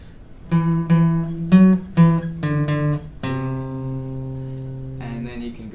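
Acoustic guitar playing a riff slowly, a handful of plucked notes and chords spaced apart, then a long sustained ringing chord, close and alone without talk.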